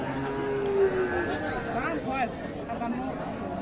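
A cow lets out a drawn-out moo amid a busy outdoor cattle market crowd, with people talking around it.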